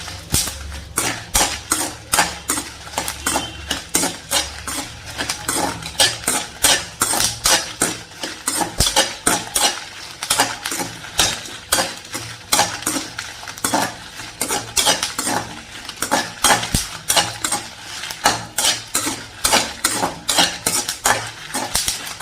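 Spices dry roasting in a pan while a spatula stirs them nonstop, with rapid rhythmic scraping and metallic clinks over a faint sizzle, loud and close.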